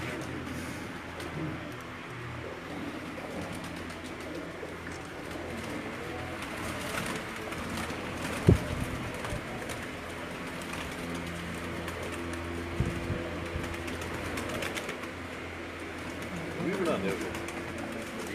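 Racing pigeons kept by a pigeon fancier near Head Marala, Sialkot, coo softly and repeatedly over a low hum, with one brief sharp knock partway through.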